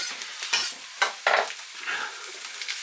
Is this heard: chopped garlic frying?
yes